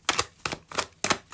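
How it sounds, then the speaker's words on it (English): Tarot cards being dropped onto a surface, a run of quick crisp slaps and flicks coming in close, paired bursts at a fairly steady rhythm. "Dropping cards here."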